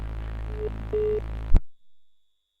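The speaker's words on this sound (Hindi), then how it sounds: "फोन कट चुका है" A short electronic beep pattern over a steady hum, then an abrupt cutoff into silence, like a phone line dropping.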